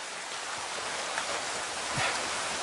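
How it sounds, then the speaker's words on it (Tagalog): Heavy rain pours down in a steady, dense wash of noise, with a few faint rustles or thuds, and no voices. "bakit ba kasi ngayon pa umulan ng malakas?"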